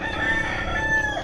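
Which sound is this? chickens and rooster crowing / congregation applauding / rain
chickens and rooster crowing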